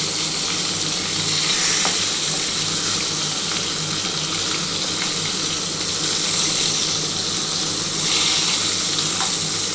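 Pieces of pointed gourd (potol) fry steadily in hot oil for a Bengali vegetarian posto dish, giving a continuous, dense sizzle at close range with a few faint scrapes and no talking.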